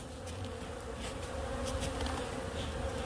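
Honeybees swarm around an opened, smoked hive during a November reduction of the colony before wintering, making a dense, steady, close buzz that fills the whole stretch with no voices.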